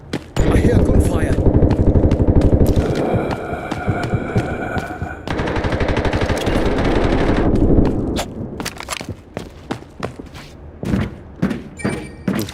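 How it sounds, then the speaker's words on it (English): Sustained rapid automatic gunfire from the Delta Force shooter game rattles loudly for about eight seconds, followed by scattered single shots and thuds, with voices talking underneath. "I hear gunfire."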